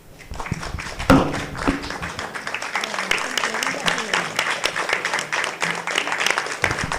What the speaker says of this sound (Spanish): de pie, darle un gran aplauso a nuestro comandante en jefe